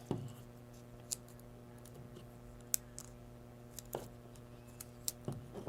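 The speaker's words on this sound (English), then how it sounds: "with my pair of scissors from home, I'm going to cut 2 small strips of tape" Scissors snip small strips of tape in a quiet room: a handful of sharp, separate clicks spread across a few seconds over a steady low hum.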